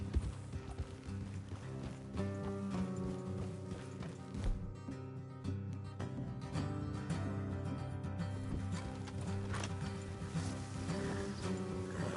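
Steady clip-clop of horse hooves trotting along under a continuous layer of music in Red Dead Redemption 2, with a whinny-like cry at one point.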